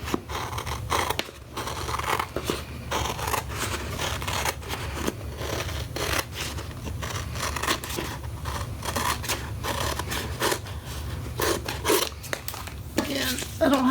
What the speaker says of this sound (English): I don't have to cut this edge perfect.